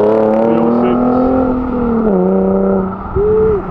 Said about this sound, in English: That Nissan's got a deep exhaust on it, that's mad.